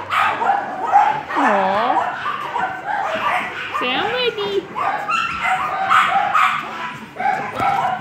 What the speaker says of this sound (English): So here's the puppy. Hey, puppy.